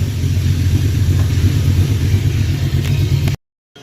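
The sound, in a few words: 1983 Oldsmobile Cutlass driving around the block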